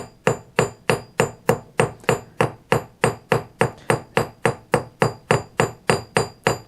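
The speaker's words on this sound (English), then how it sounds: "lighter hammer strokes." A rapid, even series of light, ringing hammer strikes on hot forged metal, around twenty quick taps in a steady beat, close up with no talking.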